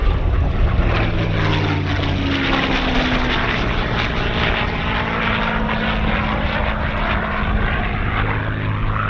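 A P-51 Mustang fighter plane flies an air show demonstration at a World War II weekend event. Its loud, steady engine roar fills the air with a dense rumble throughout, and a faint tone slowly shifts as it passes.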